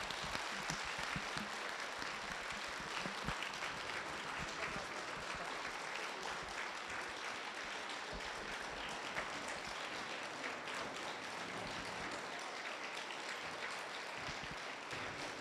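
Loud, dense applause from a lecture audience fills the whole stretch, steady and sustained with no voices over it.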